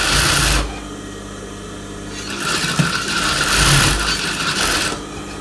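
A sewing machine stitches the lining of a blouse front, a close, steady mechanical whirring chatter with a short burst at the start, then a longer running stretch that rises and falls slightly in speed, with no talking.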